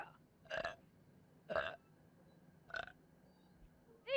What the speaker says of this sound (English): There goes another burp, guys.